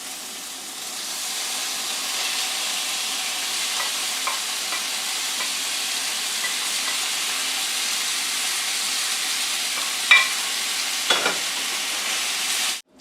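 A steak browns in a cast iron pan with an even, steady sizzle throughout, a few soft clinks and scrapes near the end, and no talking.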